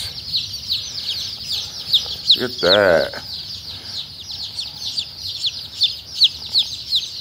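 Young chicks, egg-laying and meat birds, cheep steadily and densely in a high chorus throughout, while a person talks briefly over them midway.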